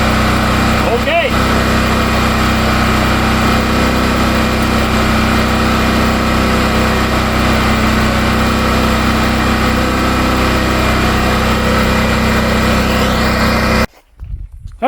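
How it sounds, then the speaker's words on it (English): A rebuilt generator engine runs loud and steady at close range, a constant droning hum that holds for most of the stretch before cutting off abruptly near the end. "Rebuilt generator."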